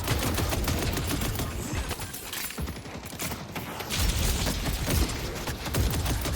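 Dense, sustained gunfire from the Yamato in Deadlock crackles in rapid bursts amid busy game effects, dipping briefly midway before resuming.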